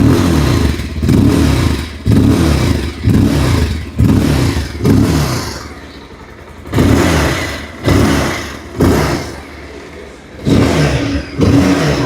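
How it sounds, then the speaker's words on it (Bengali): A Bajaj Pulsar 220F motorcycle engine is revved close up in a series of sharp throttle blips, each rising roar dropping back to a lumpy idle, about nine bursts over twelve seconds. "চলুন এবার বাইকের সাউন্ডটাকে একবার শুনে নেওয়া যাক।"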